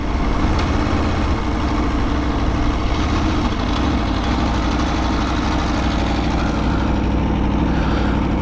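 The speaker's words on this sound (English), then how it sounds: "it's got the sound of a thoroughbred pedigree racing engine" The V4 engine of an Aprilia Tuono Factory motorcycle runs close and loud with a steady, throbbing low rumble, holding a constant idle-like note without clear revs.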